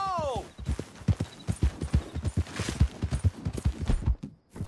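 Horse hooves clip-clopping steadily on the ground in Red Dead Redemption 2, a close, rhythmic run of hoofbeats, opening with a brief whinny and with voices talking over it.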